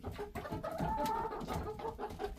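Chickens cluck and chatter inside a coop on a cold-weather homestead, several birds overlapping in a steady, fairly close, continuous flock murmur with occasional louder calls and no speech.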